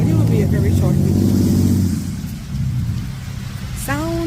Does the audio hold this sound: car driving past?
yes